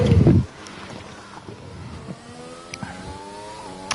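Racing car in a sim racing game at the Hungary circuit, a loud engine roar that cuts off abruptly, followed by a quieter rising rev and faint engine whine under light background noise.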